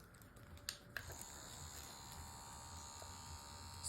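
A GEM PEN permanent makeup machine starts with a few clicks and then runs as a thin, steady electric buzz, close and quiet.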